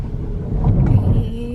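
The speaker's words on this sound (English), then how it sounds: "She forgot to turn the engine off in the car." A car engine idles steadily after being left running while parked near a cave in the Wadi Rum desert in Jordan, a low continuous rumble with light wind noise and no voices.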